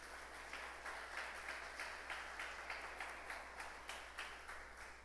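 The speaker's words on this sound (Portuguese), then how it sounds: "Pode aplaudir Jesus por isso." A church congregation applauding in praise, a steady wash of many hands clapping with faint rhythmic pulses, fairly quiet and distant throughout.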